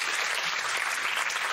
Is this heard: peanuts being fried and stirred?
no